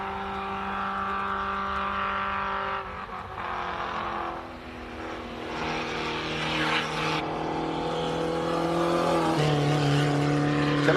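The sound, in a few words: classic race cars at SIMOLA hillclimb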